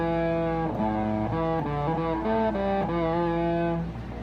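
An electric guitar played through a Vick Audio 73 Ram's Head fuzz pedal rings out a short melodic phrase of sustained, saturated notes stepping up and down, close and loud with thick distortion.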